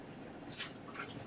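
Salad greens being rinsed in water make a couple of soft drips and squishy splashes close by, brief and fairly quiet against a low background.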